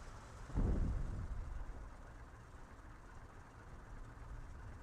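A train rumbling past in the game Steel Aces, with a heavy low burst that rises quickly, then fades into a continuous distant rumble under the game's ambience.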